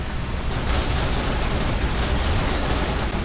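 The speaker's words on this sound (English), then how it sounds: "This Titan just exploding." A Titan mech blowing up in the online game Gear Up, a dense, noisy blast that fills the whole clip with a loud, sustained crackling roar and no talk.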